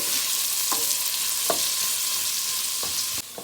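Finely chopped red onion sautés in a pan with a steady, close sizzle, broken by a few soft scrapes of stirring.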